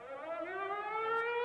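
A volunteer fire department siren wails steadily, its rich tone slowly rising in pitch and growing louder, heard alone without any talk.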